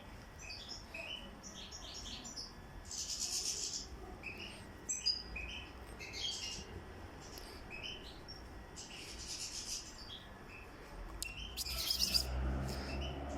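Goldfinch chirps in short, scattered bursts of high tweets, fairly close, over a quiet room background with occasional rustling.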